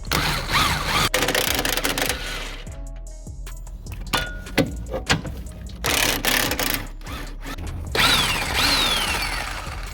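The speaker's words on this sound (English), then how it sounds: "basically we took them 3 bolts off, 16 mil" 16 mm engine mounting bolts are worked loose on a Nissan Qashqai during a clutch replacement, with bursts of ratcheting clicks and sharp metallic knocks over a steady workshop background.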